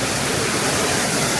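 A waterfall in a beaver exhibit at an aquarium pours continuously, a dense, loud, unbroken rush of water with no voices over it.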